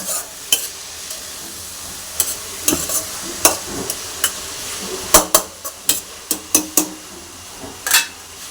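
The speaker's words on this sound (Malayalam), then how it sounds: "ഇളക്കി കൊടുക്കാം നല്ലതുപോലെ" Food being stirred in a hot frying pan for a vegetable thoran, with a steady sizzle under a string of sharp utensil scrapes and taps on the pan that grow denser toward the end.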